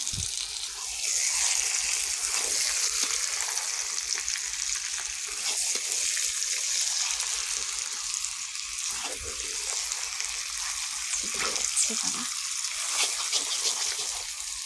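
Goat meat goes into a pan of fried spice masala with fried potatoes and turmeric, a broad crackling sizzle with wet stirring noises running throughout, close and fairly loud, no talking.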